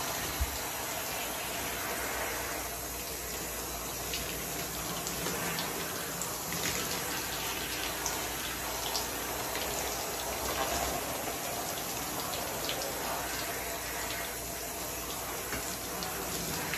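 Washed lamé fabric being rinsed under running water, a steady hissing splash of the stream that continues evenly for the whole stretch with small pattering variations, close by and without speech.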